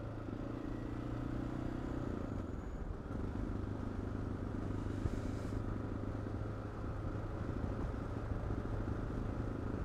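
Single-cylinder Yamaha Ténéré motorcycle engine while riding, a steady, loud, continuous thumping rumble with wind noise and no one talking.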